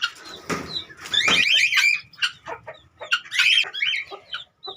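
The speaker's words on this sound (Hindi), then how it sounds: "आज मुर्ग वाला काम इस मुर्गी ने ले लिया है। अपने बच्चों को छोड़कर उसके साथ लड़ाई करने में मसरूफ़ है।" A hen clucking and squawking in agitated bursts while fighting another chicken in a backyard cage area, with overlapping loud calls and scuffling throughout.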